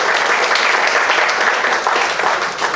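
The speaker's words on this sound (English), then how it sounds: "Round of applause to each one of you in the room." Applause from people in a room, a dense, steady wash of clapping that holds loud and even throughout with no pauses.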